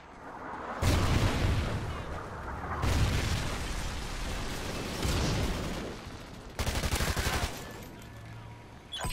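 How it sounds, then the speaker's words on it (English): Trinity Rocket killstreak strikes landing in Call of Duty: Ghosts on a Devastation map pack level: heavy, dense bursts of explosions and rapid gunfire-like blasts in several loud waves, with a brief rattling stutter near the end. "Friendly Trinity rocket inbound."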